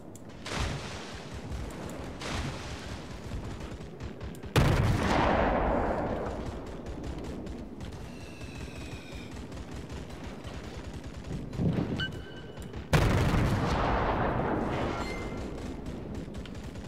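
Warship secondary guns fire in the World of Warships video game, with heavy booming blasts that decay into long rumbling tails, along with scattered lighter shots and a steady background din.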